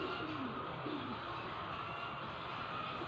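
A Taiwan pigeon gives soft, low cooing notes close by, with a few short rolling coos over a steady background hum and no talking.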